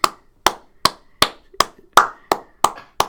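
Nine sharp hand claps land one after another at an even, steady pace, close and distinct, with near silence between them.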